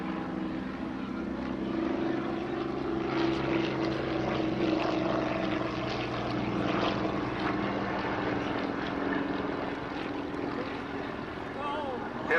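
A propeller aerobatic aeroplane performs at an airshow, its engine a loud, steady droning roar that holds throughout with slight swells in pitch and intensity.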